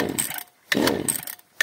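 A Stihl chainsaw, left unused for 30 years, in two loud bursts of rough engine noise separated by short silent gaps, with another burst starting at the end.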